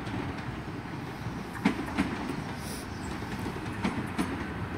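A nine-carriage Class 802 train passing at Gloucester station, a steady rolling rumble with a few distinct wheel clacks as the carriages go by, heard from moderately close and alone.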